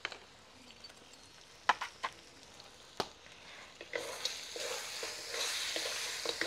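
Mutton frying in a pan is stirred with spices, scattered scraping knocks at first, then a louder continuous sizzle rising midway and holding to the end, close by.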